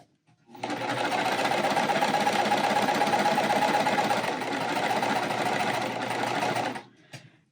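Sewing machine chain stitching die-cut cotton fabric pieces together in one continuous run, a steady fast mechanical whir held for about six seconds before stopping, near and alone.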